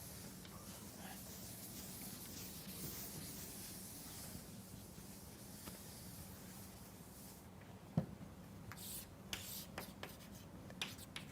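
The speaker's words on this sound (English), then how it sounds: "So let me write it here." Steady pen or marker scratching on a writing surface while a joint CDF formula is written out, continuous and close under a low hum, with a few sharper taps near the end.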